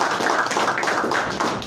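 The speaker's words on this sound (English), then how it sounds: "let's welcome the Minister to the Ministry with a round of applause" A room of staff gives a round of applause to welcome a newly appointed Zambian Finance Minister, with dense, steady clapping that stays loud and continuous throughout the short burst.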